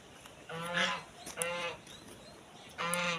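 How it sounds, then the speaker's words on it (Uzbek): An agitated goose honks in three loud, harsh bursts close by, with brief quiet gaps between calls. "G'oz beryapti asabiylashib."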